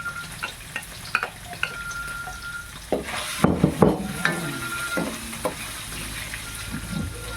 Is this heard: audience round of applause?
no